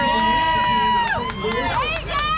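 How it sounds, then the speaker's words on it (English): Crowd noise at a bricklaying competition, the SPEC MIX Bricklayer 500 regional series in Missouri, with cheering and shouting voices rising over steady hubbub throughout. "How about this crowd?"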